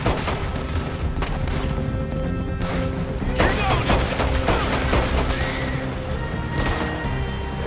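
Gunfire in Red Dead Redemption 2 story mode, a shootout of repeated sharp shots and bursts over a dense, busy game soundtrack with some chatter mixed in.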